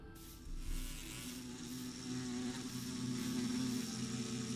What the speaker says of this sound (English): Why are you mad at me, bee?